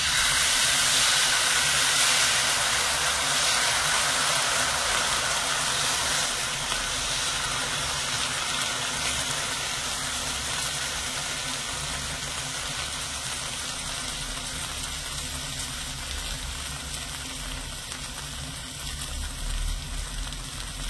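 Rice batter fries on a hot tawa, giving a soft, steady sizzling hiss that stays even and moderately quiet throughout, slightly louder at the start, with no voices.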